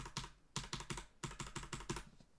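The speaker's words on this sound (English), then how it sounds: "that's what the new keyboard sounds like" A new, clicky computer keyboard is typed on in quick bursts of crisp keystrokes, close and alone, with short pauses between flurries.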